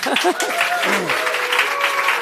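Live podcast audience breaks into loud, dense applause, a steady wash of many hands clapping close by, with some voices and a few cheers mixed into the noise.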